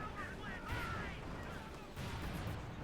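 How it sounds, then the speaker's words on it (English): Cluster bomb artillery strike in Company of Heroes 2, a World War II strategy game: dense rumbling blasts and crackling impacts run continuously across the clip, with a heavier surge near the end, beneath a commentator's voice. "Oh, he's calling in the cluster bombs."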